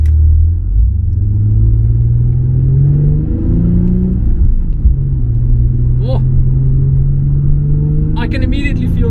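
A Nissan 350Z HR's engine runs loud and close, its steady low drone rising in pitch as the car pulls away, with a brief voice near the end.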